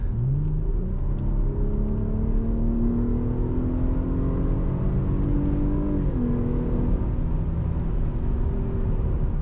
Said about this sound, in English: it's a 6-cylinder Jeep with nothing extra on it, so it does sound good with the exhaust on it too